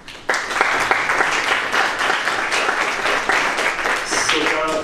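A workshop audience at a congress applauds, sustained dense clapping that starts abruptly and holds at a steady level, with a voice audible near the end.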